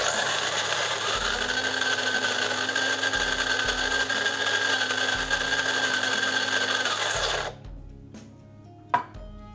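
A coffee bean grinder, set two notches above its finest espresso setting, grinds beans with a steady, loud whirring for about seven seconds, then cuts off, leaving a few faint clicks and taps.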